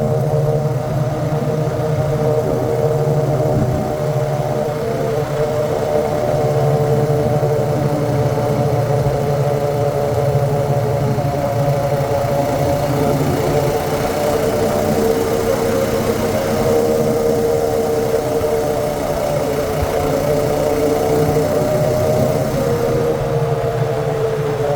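A Honda Rancher ATV engine riding along a road, a loud continuous droning rumble that holds steady throughout, near and alone with no talking.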